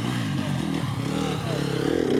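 An enduro motorcycle engine revs and labours during a hard enduro race in the Limousin, a continuous rough buzz with shifting pitch and some clatter, with faint talk mixed in.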